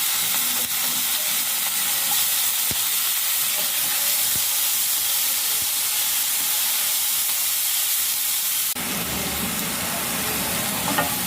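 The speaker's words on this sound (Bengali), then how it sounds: "গোটা শুকনো লঙ্কা এটা একটু ভাজা ভাজা হবে" Whole dried red chillies frying in oil in a pan give a steady, loud sizzle with crackle throughout, and a brief louder burst of sizzling near the end.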